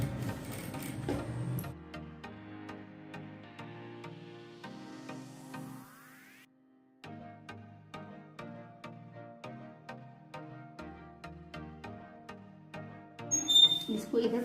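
A sewing machine stitching the collar of a half-collar kurti runs in short rapid bursts of needle clatter. It stops briefly partway through, then starts again at a steady even pace, close and moderately quiet.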